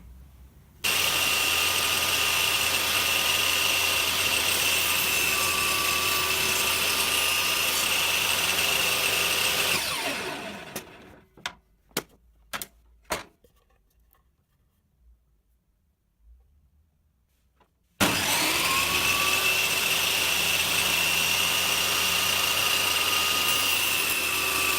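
A power saw cuts spline slots in a wooden memorial box, whining loud and steady before spinning down. A few sharp knocks sound during a quiet gap, then the saw starts up again at full volume.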